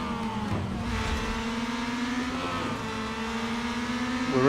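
Race cars roar through a GT4 motorsports race in the video game Real Racing 3, a steady close engine drone with pitch that rises and dips through gear changes and climbs sharply at the end.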